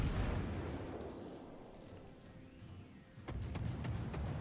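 Cruiser firing high-explosive shells in World of Warships, a rumbling low battle ambience broken by a sharp loud gun blast followed by several quick crackling shots.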